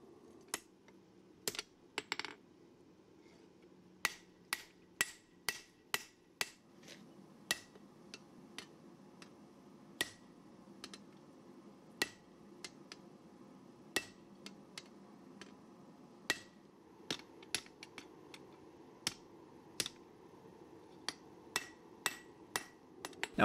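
A hammer strikes a steel cleaver blade to thin it during a tapered-tang knife build, giving sharp, ringing metallic blows in a steady, fairly quick rhythm with short pauses, close and alone over a quiet background.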